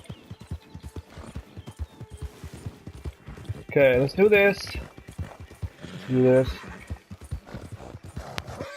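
Horse hooves clip-clop in Red Dead Redemption 2 as the mount moves in a quick, even rhythm close by, with a couple of loud, drawn-out whinnies in the middle and someone talking briefly.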